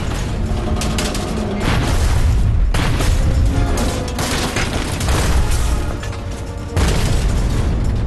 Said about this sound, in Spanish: La primera serie cae al agua y explota.